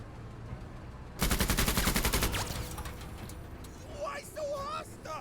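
Rapid squad suppressing fire from the tactical video game MENACE: a dense, sustained burst of automatic gunshots starts abruptly and rattles for over a second, then fades into trailing reports and background game sounds.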